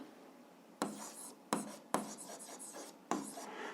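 A pen writing out a seventh-grade algebra exercise on paper, four crisp scratching strokes in quick succession, close and quiet with no one speaking.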